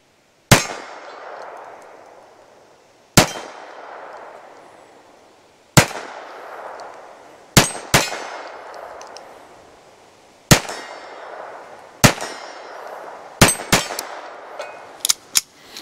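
A pistol is fired at steel targets out to 25 yards at an outdoor range, each sharp report followed by a ringing metallic clang, about a dozen shots at an irregular pace that speeds up toward the end, with no talking.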